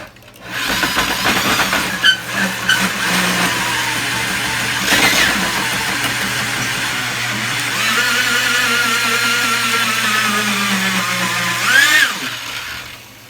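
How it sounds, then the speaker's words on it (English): A tenon cutter machine drills into the end of a log, shaping it like a sharpened pencil; a steady, loud motorized whir and grinding cutting noise runs throughout, with a brief louder burst near the end. "we're going to go ahead and operate the drill by hand, and then this lever here moves the log in and out"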